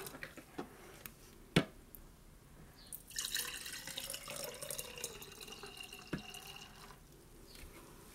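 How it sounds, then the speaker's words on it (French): A blended drink preparation is poured into a blender jar, giving a soft liquid trickle and splashing with a few sharp drips and clinks, quiet and close, with no talking. "nous allons la verser dans le blender, dans la jarre"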